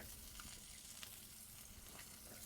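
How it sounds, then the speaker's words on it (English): Steady sizzling of chicken skin frying in a pan of hot oil, a continuous crackling hiss with small pops, close and even throughout. "that nice sizzle right there, nice amount of oil in the pan"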